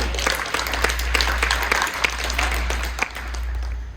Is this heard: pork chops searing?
no